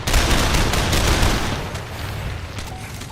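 A barrage attack in the Lamplighter's League video game: rapid, overlapping gunfire and explosive booms, loud and dense at first, then thinning out into a rumbling tail.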